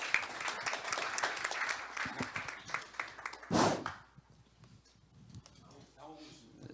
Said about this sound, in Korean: 장선웅 총장님을 박수로 환영해 주시기 바랍니다